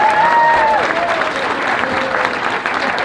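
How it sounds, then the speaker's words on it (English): Audience applause at a traditional Native American clothing contest at the Santa Fe Indian Market, a steady dense clatter of clapping for a contestant, with a faint tonal sound and brief murmurs running beneath. "Let's give him one big round of applause."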